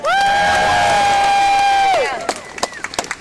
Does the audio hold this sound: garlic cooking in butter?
no